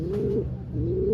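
A racing pigeon coos in a low, steady rolling call, close and clear, with two swelling phrases and no other voices.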